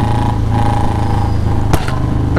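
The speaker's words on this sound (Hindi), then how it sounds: "ये देखो देखा पटाखे फूटते हैं" Royal Enfield Bullet motorcycle idling and revving with exhaust backfire pops, one sharp loud crack standing out over the steady engine thrum, close by.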